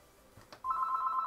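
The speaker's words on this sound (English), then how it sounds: "The phone rings now?" A phone rings during a livestream reaction: after a couple of faint clicks, a steady electronic ring tone starts abruptly and holds, moderately loud and close, with no one talking over it.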